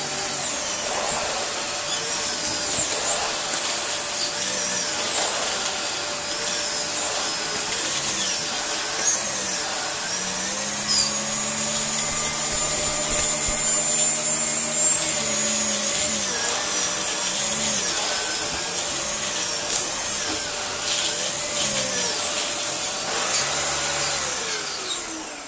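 A vacuum cleaner runs on carpet with a steady high whine and motor hum throughout, close and alone, its pitch shifting slightly as it moves over the pile.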